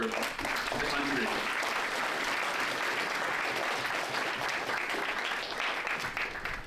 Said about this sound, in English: please give another round of applause to our amazing people who came in today from all over the country